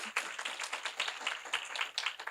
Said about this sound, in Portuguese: uma salva de palmas para o professor Luciano